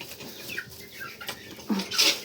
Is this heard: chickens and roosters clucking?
yes